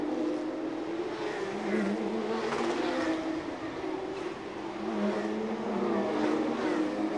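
Porsche Carrera Cup race cars on a street circuit in Chonburi, a steady loud engine drone with rising and falling revs as cars pass through a corner, continuous throughout with no talk.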